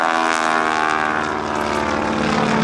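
John Mohr's propeller aerobatic airplane at the 2008 NAS Oceana Airshow drones loudly and steadily overhead, its engine note holding with a slight waver, with no voices.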